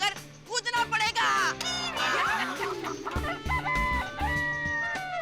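A person in a comic household scene imitates a rooster crowing with a voice, mixed in with busy background music and other voices.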